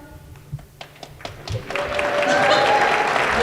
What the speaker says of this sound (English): Is waiting for the applause.